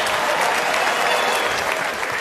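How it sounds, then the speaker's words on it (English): A comedy club audience claps in a dense burst of steady applause that fills the room. "Some of you are clapping"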